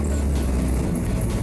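A Volvo 240 Turbo, nicknamed the Flying Brick, runs on a test drive with a steady, loud, low-pitched engine drone that holds evenly throughout, with no talking.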